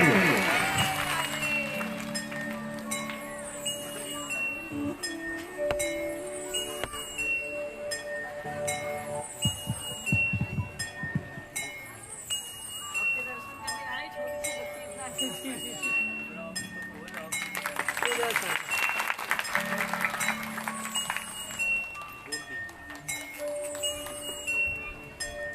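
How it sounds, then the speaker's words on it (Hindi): An audience at a devotional Bhagavat recitation claps in sustained applause over ongoing music with ringing chime-like tones, and voices mix in throughout. "एक बार जोरदार तालियां।"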